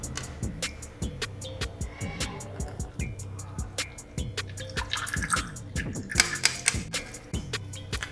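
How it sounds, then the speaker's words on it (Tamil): Ground betel leaf juice strained through a kitchen strainer, with rapid, regular tapping and dripping knocks repeating throughout and brief splashy bursts of liquid partway through, moderately close. "இதை நம்ம ஒரு வடிகட்டி வச்சு வடிகட்டிக்கலாம்."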